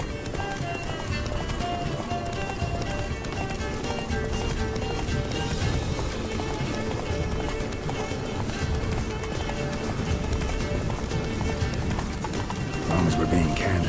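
Roach, Geralt's horse in The Witcher 3: Wild Hunt, gallops with steady rapid hoofbeats under a continuous, dense game soundscape with music, loud and unbroken throughout, while voices talk over it.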